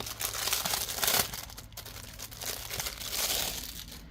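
Paper envelopes being handled from a binder, close crinkling and rustling in two bursts with a short pause between.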